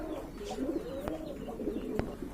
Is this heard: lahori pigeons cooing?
yes